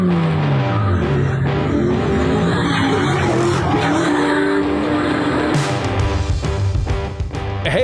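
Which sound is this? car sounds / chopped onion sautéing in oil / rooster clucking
car sounds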